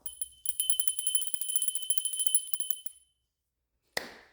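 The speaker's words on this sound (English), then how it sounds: "Where's my bell?" A small hand bell jingles rapidly for about three seconds, bright and close, then stops. After a pause of silence a single short ring sounds.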